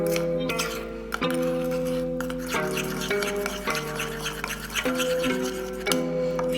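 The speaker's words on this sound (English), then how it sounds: "now apparently I need to whisk this up" Soot ink is whisked into a paste, giving rapid, scratchy scraping and clinking against a small container, close and continuous with short pauses and a steady background hum.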